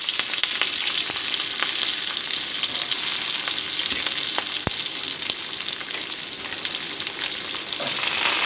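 Garlic, curry leaves and onion sizzle in hot oil for gongura pappu, a steady close crackling hiss that holds throughout with one sharp click midway.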